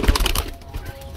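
A breeder pigeon cooing up close, soft low murmuring calls in a short burst that fades into quiet background noise.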